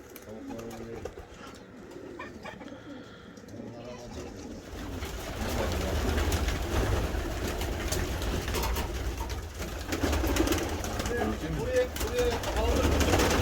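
Pigeons cooing on a pigeon farm in Kahramanmaraş, with several soft, low coos repeating close by over a continuous background of birds and farmyard noise; a voice is briefly heard early on.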